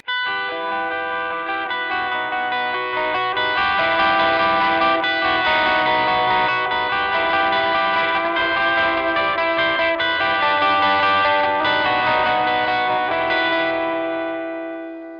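Guitar run through an effects pedal patch that imitates the piano intro of a song: a sustained, shimmering stream of bright, chorused and slightly distorted notes, steady and loud before fading at the end, with no talk.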